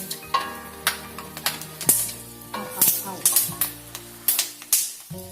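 Ingredients for chicken biryani frying in a pan while being pressed and stirred, a sequence of sharp rhythmic scraping strokes over a bed of sizzling, with a voice speaking intermittently.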